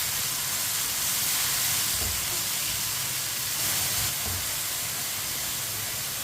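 Finely chopped spinach cooks in a pan while a spoon stirs it, giving a continuous close hiss and sizzle with a few soft scraping knocks.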